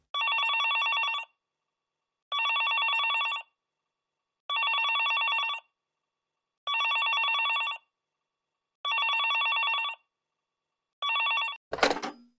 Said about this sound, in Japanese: 外線からお電話です